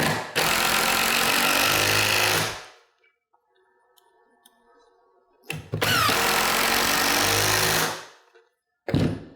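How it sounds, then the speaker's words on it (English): A power drill drives screws into cabinet door joints with a Kreg pocket-hole system, two loud whirring bursts of a few seconds each separated by quiet handling noises, then a short third start at the end. "as soon as I drive the screw, I'm done"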